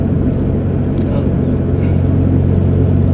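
A car cruises along a road in the early morning, a steady loud engine and road drone heard from inside the cabin, with someone talking over it.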